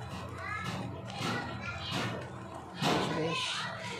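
Noisy children play outside, their shrill overlapping voices and shouts carrying steadily from a distance, with a louder burst of yelling near the end.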